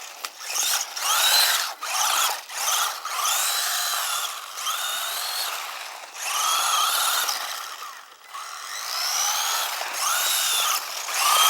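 A WLToys K929 four-wheel-drive RC truck with a 390-size brushed motor drives continuously, its high electric whine rising and falling in pitch as it speeds up and slows, loud and close throughout.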